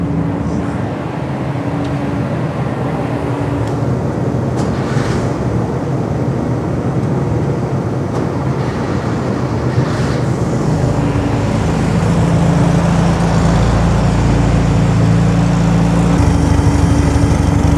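A 1964 VW Beetle with a 1600cc engine and newly fitted carburetors runs loudly and steadily close by, a continuous low engine drone that deepens slightly toward the end, with no talking over it.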